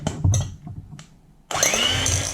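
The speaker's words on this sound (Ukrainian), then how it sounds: "Та буду збивати до біла" An electric hand mixer whips 82.5% fat butter in a small bowl until it turns pale. A few soft clinks come first, then the motor starts with a loud, steady, close whir that holds to the end.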